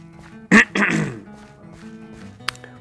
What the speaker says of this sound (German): Hust. Räusper.